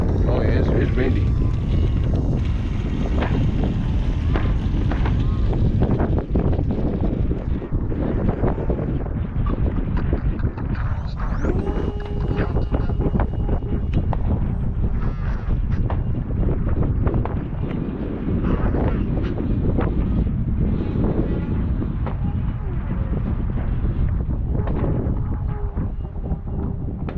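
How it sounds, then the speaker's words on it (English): Steady wind rushing over the microphone at a radio-controlled model airplane field during an air show day, a constant loud buffeting roar throughout with people talking. "Oh yeah, it's windy."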